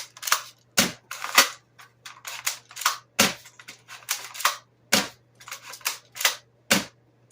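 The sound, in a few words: ASG Franchi Spas-12 airsoft shotgun firing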